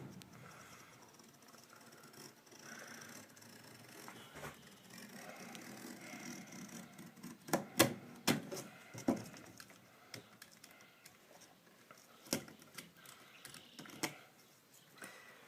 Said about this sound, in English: take your knife and kind of go right where the rubber spline is